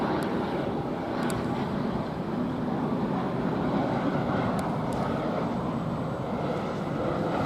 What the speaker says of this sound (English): Now we've got another aircraft.